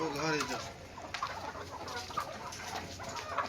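Roosters perched up high give short, repeated clucks and calls at close range over a continuous background.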